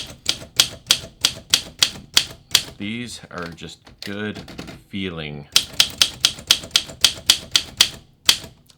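Letters typed on a manual typewriter with a hard platen make sharp, piercing clacks in quick bursts, broken by a short stretch of talking before the rhythmic striking resumes.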